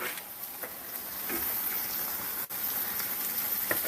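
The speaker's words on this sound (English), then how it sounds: "when you're frying bologna, I personally like to put in a little bit of butter" Steady, even sizzling and crackling of bologna frying in butter in a skillet, close and continuous with no voices.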